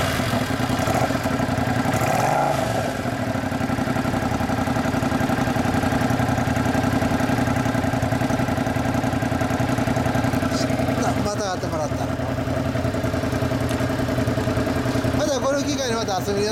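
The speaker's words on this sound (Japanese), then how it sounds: "エンジン音聞かせてもらえますか？" A 2008 Suzuki Intruder Classic 400 (VL400) motorcycle engine idles with a steady, rumbling throb that continues throughout, close by, while people talk over it.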